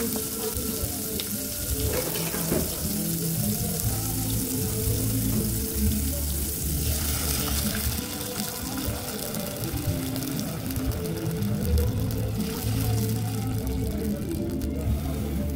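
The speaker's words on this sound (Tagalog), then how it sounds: "Lagyan natin ang tubig." Water runs and pours steadily into a cooking pot for a Filipino vegetable and pompano dish, a continuous rushing splash with shifting tone as the vessel fills, close by, with some background clatter.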